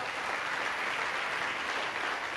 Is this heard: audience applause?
yes